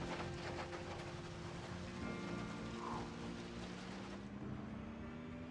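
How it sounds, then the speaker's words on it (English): Grass rustling under a moving car in the video game Project Zomboid, a steady soft hiss of brushing grass over a low engine hum, fairly faint and continuous. "I love the sound of the grass rustling under the car."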